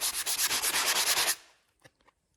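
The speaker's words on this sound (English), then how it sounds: "we're just going to grab our sanding block and sand that off a little bit" A sanding block scrubs dried drywall mud on a shop wall in about a dozen quick, even back-and-forth strokes. The rasping stops abruptly, and a few faint taps follow.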